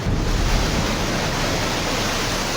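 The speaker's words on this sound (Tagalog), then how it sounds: "Ang alon na may taas na 1 metro, galit na humahampas sa seawall." Typhoon-driven waves about a metre high slam against a seawall along a flooded boulevard in the Philippines. The roar is loud, dense and unbroken, with a deep rumbling churn and no voices.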